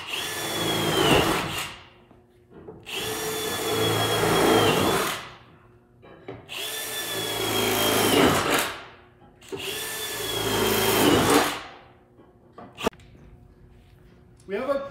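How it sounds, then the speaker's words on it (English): A power drill whines through four long bursts of drilling holes in a Dodge Ram truck floor, each a few seconds, separated by short pauses with faint clatter between them. "you're gonna be going ahead and pre-drilling all the holes in the floor here."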